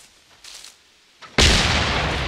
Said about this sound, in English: What weapon is that? The rocket launcher.